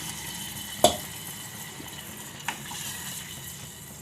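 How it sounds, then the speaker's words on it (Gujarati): Water pours steadily into a pot of split green gram dal, a continuous splashing rush with a couple of sharp knocks, close by and moderately loud. "તો હવે આપણે એમાં પાણી નાખશું"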